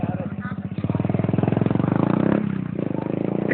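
A motorcycle engine puttering at close range with a fast, regular pulsing beat that briefly rises in pitch, while people talk over it.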